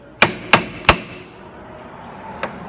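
Three sharp, evenly spaced hammer strikes ring out close and loud, followed by a pause and one softer tap, with no talk over them.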